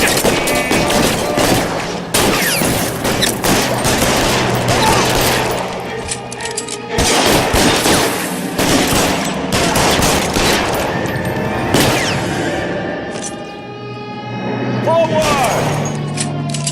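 Shootout gunfire in the video game LA Noire, bursts of rapid shots and automatic fire in clusters with brief pauses, loud and close, along with crashing impacts and some game voices.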